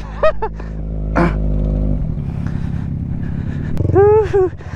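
A Yamaha R15 motorcycle engine revs up loudly and close by, with a strong climbing whine near the start and another sharp rev burst near the end, set against steady idling on a mountain ride in Sagada.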